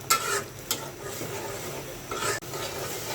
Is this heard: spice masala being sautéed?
yes